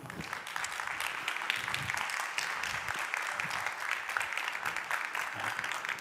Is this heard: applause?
yes